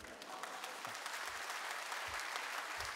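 Steady audience applause fills a concert hall at a special kayo stage show for an enka singer's 45th anniversary, dense clapping continuing at an even level throughout.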